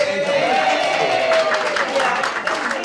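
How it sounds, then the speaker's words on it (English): Audience round of applause at a municipal work session meeting, a short burst of crowd clapping under a voice, fairly loud and close. "give yourselves a round of applause"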